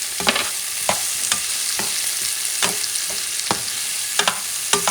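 Chopped garlic sauteing in a pan for spicy pork chop fricassee, a bright continuous sizzle broken by regular scraping stirs every half second or so, close and fairly loud.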